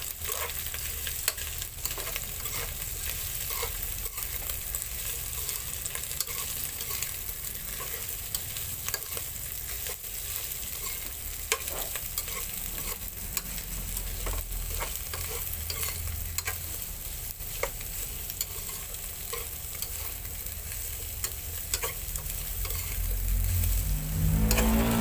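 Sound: stirring frying chicken gizzards

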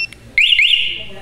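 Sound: BNY two-way motorcycle alarm sounding when deactivated by remote

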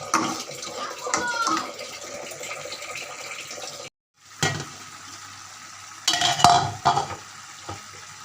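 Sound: stirring and sautéing dried fish curry in a pan

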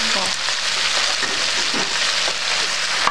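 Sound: ground beef sizzling as it is added to the pan

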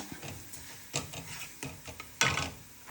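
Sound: stirring coriander powder in a heating pan

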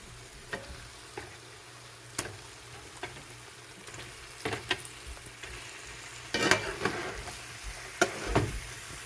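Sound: stirring chicken leg pieces in spice paste in a pan

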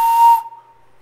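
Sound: blowing a small clay whistle, higher pitch

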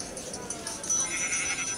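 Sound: sheep bleating in a video game animal mod

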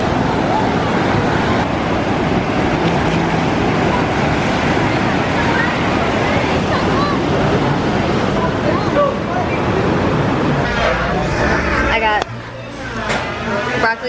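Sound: beach with ocean waves

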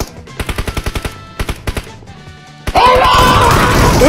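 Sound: gunfire from a video game

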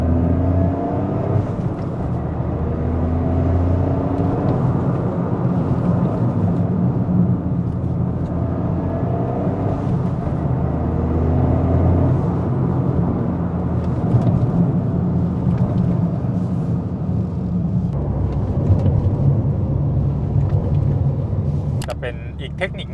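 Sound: Toyota GR Corolla engine revving while downshifting

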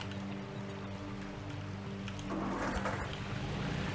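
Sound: engine running in Gold Rush video game

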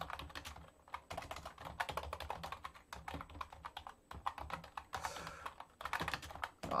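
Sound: typing on an old, noisy computer keyboard

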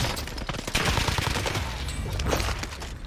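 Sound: sniper rifle gunfire in a video game

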